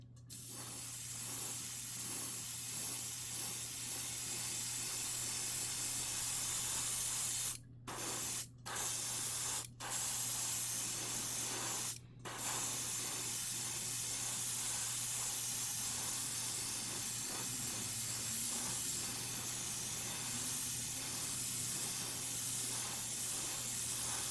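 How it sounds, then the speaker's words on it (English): Kaleido Colorworks Zirconian Black metal paint sprays in a long, steady hiss, interrupted by a few brief pauses in the middle, close and with no talking. "Let's spray and pray."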